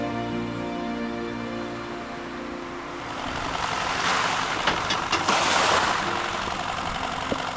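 A boat crosses choppy sea near Koh Kradan island in Thailand, a steady broad rush of engine hum and wind with water splashing and slapping against the hull that swells louder midway, no voices.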